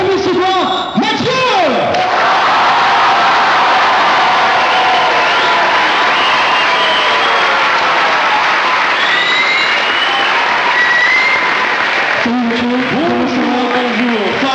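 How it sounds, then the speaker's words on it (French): Loud, sustained applause and cheering from a fired-up convention crowd greeting Mathieu Sommet at a Polymanga conference stage, with whoops and shouts riding over continuous clapping; a voice talks briefly at the start and end. "Applaudissez avec moi, comme il se doit, Mathieu!"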